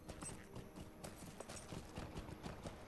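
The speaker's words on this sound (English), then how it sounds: "Oh, nice black horse." A black horse's hooves clip-clop in a steady, quick rhythm in the fantasy video game LoTRO, faint and alone with no talking.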